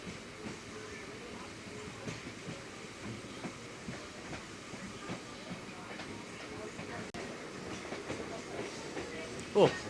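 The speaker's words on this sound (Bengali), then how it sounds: "আমাদের ট্রেনটা আবার লুপ লাইন থেকে মেইন লাইনে ঢুকবে" A local train between Tarakeswar and Goghat switches from a loop line onto the main line, giving a steady, fairly quiet rumble with soft wheel clatter and faint creaks, ending in a brief squeal.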